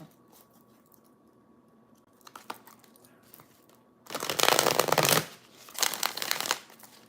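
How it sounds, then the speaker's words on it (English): A Starman deck of playing cards is riffle-shuffled, giving two loud, close bursts of rapid flapping and crisp riffling, each lasting about a second, after some soft handling sounds. "Two more shuffles."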